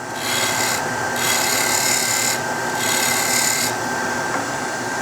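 A fresh gouge cuts a wood tenon on a lathe while a bowl is being turned. The scraping rasp is loud and close and rises and falls with each pass of the tool.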